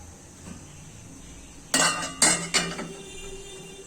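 A pot of fish gravy being set down on a stove, three bright metallic clanks of cookware against the burner in quick succession after a quiet stretch, close and fairly loud.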